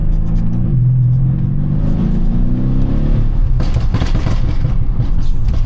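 Brabus-tuned E63S AMG engine revving hard and loud up close, a deep rising roar with harmonic sweeps that climbs, drops and then breaks into rough crackling bursts.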